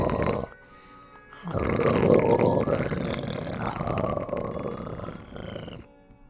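A person snores deliberately while mouthing words to make a growling symbiote snarl for a sound design effect, producing a long, rough, guttural rasp that swells and wavers for several seconds, close and loud. A voice imitates the creature sound.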